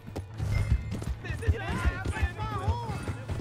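Rhythmic hoofbeats of a galloping horse in the video game Red Dead Redemption 2, thudding clip-clop close by, while someone shouts over it.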